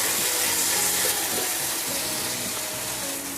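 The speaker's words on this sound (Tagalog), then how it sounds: "Lagyan natin ng tubig." About a quarter cup of water pours into a pan of sautéed ground pork (giniling) with oyster sauce, a steady splashing hiss close up that runs the whole time with no talk.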